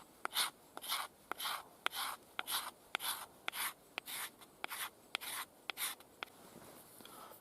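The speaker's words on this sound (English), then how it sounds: "So I've got a piece of fat wood and I'll try and take some scrapings off with the spine" Knife spine scraping fat wood with a Roselli carpenter's knife, a steady series of about a dozen rasping strokes at an even rhythm, close and fairly quiet with no talking.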